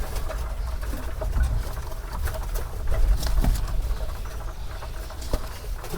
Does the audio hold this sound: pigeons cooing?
yes